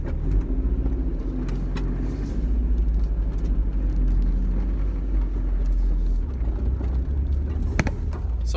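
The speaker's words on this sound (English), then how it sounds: "I'm going to go ahead and start driving around and see if I can tell any other differences" A Mazda Miata NA drives along with its engine running, a steady low rumble heard from inside the car, with road noise and small bumps but no talking.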